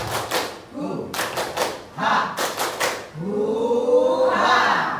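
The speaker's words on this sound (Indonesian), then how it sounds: "Tepuk semangat." Rhythmic group clapping chant, tepuk semangat, at a school positive-culture gathering in Klender: a crowd claps in a patterned beat, bursts of claps with pauses between, then voices shouting together near the end.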